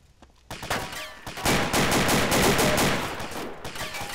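Gunfire in ArmA 2: a few sharp single shots, then a dense burst of rapid automatic fire that rattles loudly for a couple of seconds and trails off into scattered shots.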